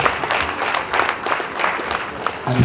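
Audience applause fills a surveying workshop hall, a steady wash of many hands clapping at moderate volume that carries on throughout, with faint voices mixed in.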